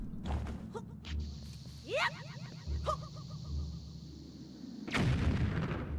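Bomb blast in a Zelda-style video game, heard as one sudden burst near the end, preceded by chiming and swooping game effects over a low pulsing background tune.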